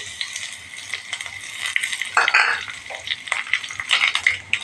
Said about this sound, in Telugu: తర్వాత పండు మిర్చి వేస్తున్నా ఫ్రెండ్స్. తర్వాత కరివేపాకు,